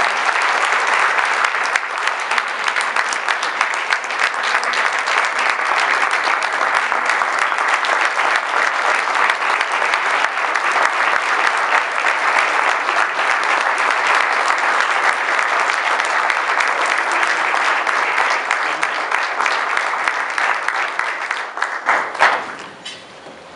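An audience gives an award recipient a long, dense round of applause, steady and loud for over twenty seconds before tapering off abruptly at the end.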